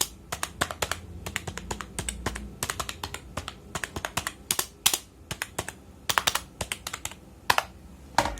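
Typing on a Zebronics Transformer budget RGB gaming keyboard with a mechanical feel: a fast, irregular run of close, crisp key clacks lasting several seconds with no voices.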